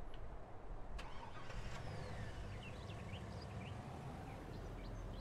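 A car engine starting and idling in Farming Simulator 2019, a steady low rumble running throughout at moderate distance, with faint high tones over it and no talking.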